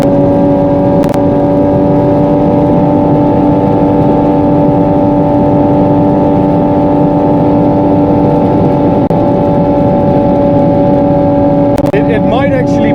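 A Porsche 718 GT4 RS Weissach engine screams at high revs on the Autobahn, a loud sustained howl with steady pitch, with a voice talking over it throughout.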